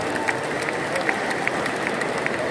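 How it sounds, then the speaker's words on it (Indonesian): Audience applause at a Golkar party witness briefing in Blora, a steady wash of clapping from a gathered crowd, fairly even throughout with a few sharper claps standing out. "Tepuk tangan untuk Mas Erwin Aksa."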